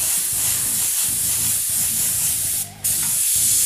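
An airbrush sprays paint in a steady, close hiss over a stencil edge, with one short break near the end before the spray resumes.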